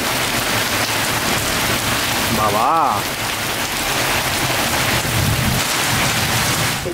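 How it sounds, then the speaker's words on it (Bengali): Heavy rain pours steadily and loudly in Rangpur, with a brief rumble of thunder rolling through midway and a voice briefly calling out. "জোরে মেঘ ডাকছে আর বিজলি চমকাচ্ছে।"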